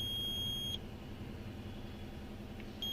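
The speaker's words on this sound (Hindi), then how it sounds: "ये देखिए मेरा बजर भी बज रहा है" An electronic buzzer in a Hyundai Xcent beeps steadily during mirror wiring work, a thin high tone that stops and then resumes, under a constant low engine rumble and with no talking.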